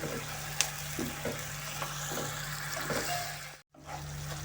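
Onion and carrot sizzle softly in a pan with sour cream added, a steady low frying hiss with a few faint stirring clicks, close by and without speech.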